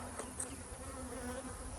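Dense, steady droning of many honeybees around beehives in an outdoor apiary, a continuous close buzz with no pauses and no voices.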